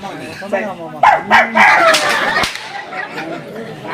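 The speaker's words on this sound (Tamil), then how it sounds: "நாய்" Dog barks ring out during a Tamil folk stage drama, a few loud sharp yelps tangled with raised, overlapping voices of performers close to the microphone.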